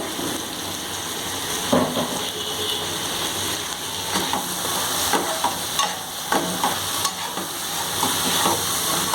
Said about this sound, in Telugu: ఇప్పుడు క్యాప్సికమ్ కూడా వేసేసుకుంటున్నాను. ఇది కూడా అంతే, జస్ట్ 2 మినిట్స్కి వేయించుకుందాము.